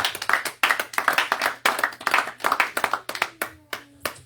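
Worshippers at a church sermon clap together in a brisk, rhythmic series of sharp, close handclaps, with a faint sustained tone appearing near the end.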